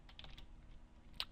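Keys clatter in a quick, faint burst of about five taps as someone types on a computer keyboard, heard close up with no voice.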